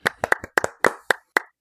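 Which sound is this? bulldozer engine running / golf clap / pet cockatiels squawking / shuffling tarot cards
golf clap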